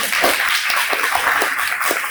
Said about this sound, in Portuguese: Por uma salva de palmas.